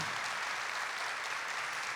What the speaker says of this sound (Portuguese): E agora eu queria que vocês aplaudissem nessa imagem